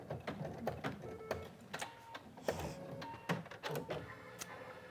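An embroidery machine stitches an appliqué with a quiet, uneven run of clicks and needle taps, interrupted by sharper mechanical knocks and short whirring moves at close range.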